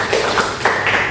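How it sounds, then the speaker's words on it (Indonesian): Brief clapping from a classroom audience applauding a student, a short burst of claps lasting about a second at steady moderate loudness. "tepuk tangan buat Saputra."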